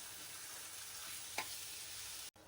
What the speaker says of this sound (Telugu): ధనియాల పొడి కూడా వేసుకొని ఒకసారి కలిపేసి మరి కొద్దిసేపు ఫ్రై చేసుకుందాం.